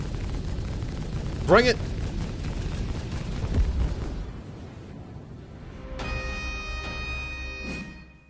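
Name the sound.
gunfire and explosions in a video game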